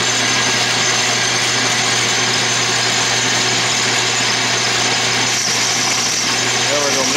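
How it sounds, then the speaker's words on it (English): Metal lathe running loud and rattly while parting off a workpiece, a steady close mechanical drone with a low hum that continues without a break throughout. "This lathe is so loud and rattly."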